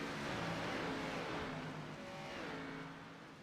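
A race car leaves pit road in a simulated Xfinity Series race at Richmond, with a loud, sustained engine drone that shifts in pitch as it passes and fades slightly at the end.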